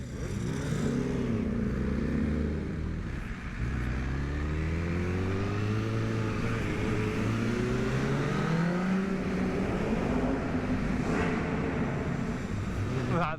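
MV Agusta Brutale 910R motorcycle engine with racing headers revving and accelerating through the gears, loud and close, its pitch rising and falling in sweeps, with a voice speaking over it.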